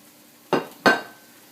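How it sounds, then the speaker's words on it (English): Chopped tomatoes tipped into a pan land in two quick, close wet thuds about a third of a second apart, each with a brief sizzling, clattering tail, and no one talking. "next I'm going to add in my chopped tomatoes"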